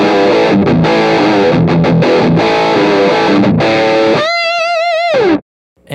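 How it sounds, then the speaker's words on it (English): An electric guitar through an Axe-Fx II plays a dirty, distorted rhythm tone with no reverb, loud chugging chords with short stops, then a held bent note that cuts off dry into silence. "In scene 7, we've got the same tone but with absolutely no reverb."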